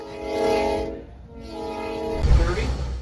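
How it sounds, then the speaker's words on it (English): A train pushing through deep snow sounds a long, loud horn, which breaks off and then returns as the heavy rumble of the passing train swells. "Deep snow's no problem for this train."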